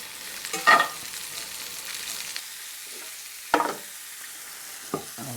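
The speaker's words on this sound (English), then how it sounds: "And I'll just saute this for a bit." Food sautés with salt in a pan, giving a quiet, close sizzle marked by a few sharp stirring scrapes.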